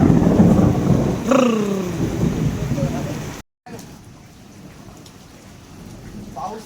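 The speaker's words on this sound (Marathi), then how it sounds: "पाऊस फुल आहे ना" Steady rain pours down during an unseasonal storm, with a rumble of thunder rolling through early on; someone speaks over the downpour, and after a brief cut the rain continues more softly.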